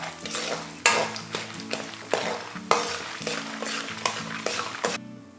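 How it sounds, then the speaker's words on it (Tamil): Urad dal and chana dal frying in hot oil until brown, a soft steady sizzle broken by repeated scraping stirs of a spoon against the pan, each stroke a sharp clatter, heard close up with no talking. "இதை வந்து நல்லா ப்ரௌன் ஆகிற வரைக்கும் வறுக்கணும்"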